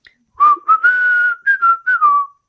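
A person whistles a short, wavering melody imitating someone whistling as they left an elevator, clear and close, in a few connected phrases with brief breaks.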